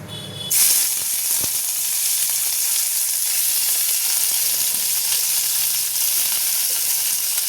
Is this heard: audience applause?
no